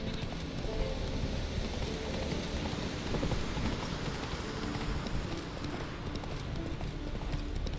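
Roach, a horse in The Witcher 3, gallops with a steady rapid hoof rhythm under a constant wash of rain, loud and close throughout.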